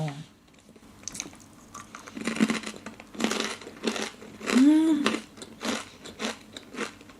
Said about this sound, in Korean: 아주 씹으면서 바삭 바삭 계속 바삭 바삭 거려요